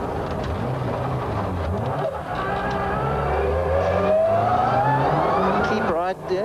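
Ford rally car running through canefield stages at the 1994 Castrol International Rally, engine droning loud and near with shifting revs and a rising pitch, partly under a voice talking over it.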